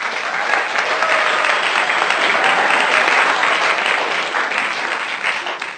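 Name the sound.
congregation applauding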